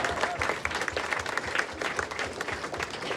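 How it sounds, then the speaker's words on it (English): An audience breaks into applause for a question at an evening testimonial event, close, loud clapping from a lively crowd with distinct individual claps standing out in the patter. "I think a round of applause for that question."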